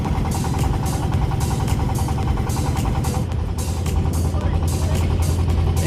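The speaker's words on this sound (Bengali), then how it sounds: "এই যে আমাদের নৌকা ছেড়ে দিয়েছে।" A passenger boat's engine drones steadily and loudly as it leaves Chorsadhipur ghat on the Padma, a constant low mechanical rumble with a rhythmic pulse. Voices talk over it throughout.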